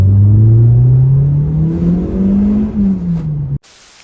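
Toyota Matrix with a 1ZZ engine, custom stainless exhaust and resonator, revving close and loud: a droning exhaust note climbs, wavers and falls back before cutting off abruptly near the end.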